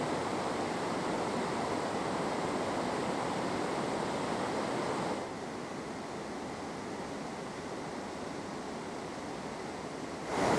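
A waterfall and river rush in the distance with a steady, full roar of falling water that drops slightly in level about halfway through.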